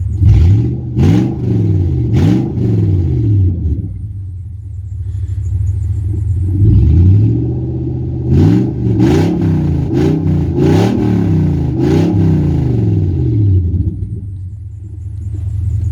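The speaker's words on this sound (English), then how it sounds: "It's a Lexus LS400, it's about 300 horsepower and 300 foot-pound of torque, 4 litre V8." Loud, close V8 blips from a Lexus LS400 4-litre running open headers: several sharp revs rise and fall over a deep rumbling idle, in two bursts separated by a calmer stretch.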